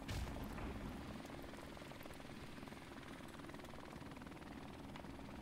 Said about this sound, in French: Ça va, il y a mon hélico qui s'occupe de tout.